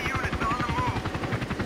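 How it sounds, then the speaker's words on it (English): A helicopter in the Battlefield 2 video game thumps loudly and steadily with fast rotor chop, close and filling the short moment. "Chopper!"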